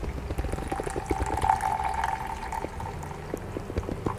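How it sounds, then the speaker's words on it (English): Brewed tea for bubble tea is poured from a jug, a steady trickling stream with drips that runs continuously for a few seconds at close range, with no one talking. "Pour the tea from the jug."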